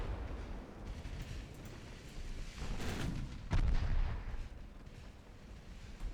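Warship naval guns firing in the naval video game Ultimate Admiral Dreadnoughts, distant low booms rolling over a rumbling background, with one heavier blast near the middle standing out among fainter reports.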